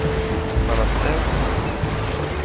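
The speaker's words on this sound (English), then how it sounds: "Oh, water." Water in the video game Unravel, a steady wash of surf and rushing water with low rumble, fairly loud and continuous throughout, with a faint voice briefly underneath.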